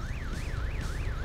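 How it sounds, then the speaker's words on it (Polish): Reversing warning signal of a truck in the video game Farming Simulator 2019, a continuous rising-and-falling electronic wail cycling steadily over a low engine rumble. "Ciekawy ma dźwięk do cofania."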